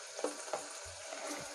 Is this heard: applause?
no